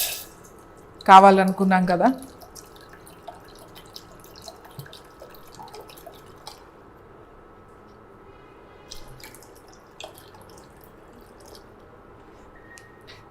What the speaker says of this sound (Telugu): కొంచెం వాటర్ వేసుకుందాం